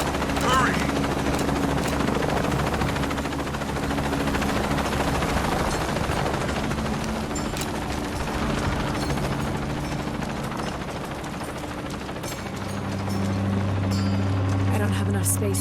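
Helicopter rotor thudding steadily in Shadow of the Tomb Raider, loud and continuous over the whole stretch, with mechanical clatter, bursts that may be gunfire, and voices talking over it.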